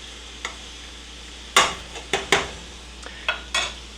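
A spoon knocks and scrapes against a pot while onions are stirred for French onion soup, giving a handful of sharp, close clinks and scrapes at irregular intervals over a faint, quiet background.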